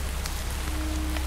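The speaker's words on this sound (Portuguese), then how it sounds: "A gente agora estava enfrentando um pouco de zumbi, uma chuva ácida." Acid rain falls steadily in a zombie survival video game, a dense, even hiss of rain with no voices.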